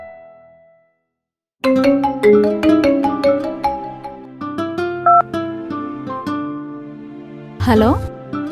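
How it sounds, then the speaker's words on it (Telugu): A mobile phone ringtone plays a bright, chiming melody after a short silence. It rings loud and close for several seconds. "త్వరగా లిఫ్ట్ చేయవే ఫోన్."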